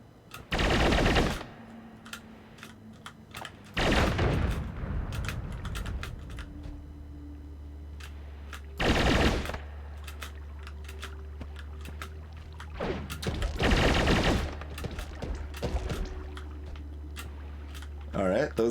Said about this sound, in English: those guys are shooting some of that toxic, flammable gas around here